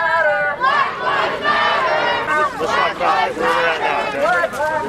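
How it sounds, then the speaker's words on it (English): A large protest crowd shouts a rhythmic Black Lives Matter chant, loud and near, with many voices rising together in repeated waves. "This is obviously the crowd."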